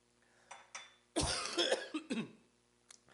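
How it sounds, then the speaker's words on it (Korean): A man with a cold, speaking to a church congregation, lets out a harsh burst of coughing, a few rough coughs after some faint breathy sounds, then goes quiet. "지금 기침이 자꾸 나는데"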